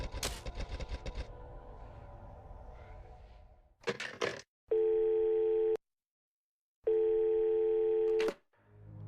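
A telephone is dialled in the Tomb Raider game: clicks and crackle, then a burst of dial pulses, followed by two long, steady tones separated by a silent gap and a final short click.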